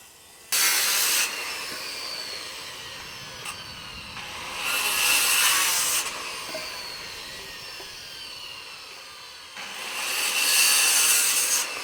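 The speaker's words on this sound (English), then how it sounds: "This whole house is being built with the skill saw" A handheld skill saw cutting wood on a house construction site, three loud bursts of high rasping whine separated by quieter gaps, close by and with no talking.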